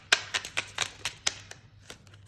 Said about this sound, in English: Every time I shuffle these, I just ruin my cards because they're gilded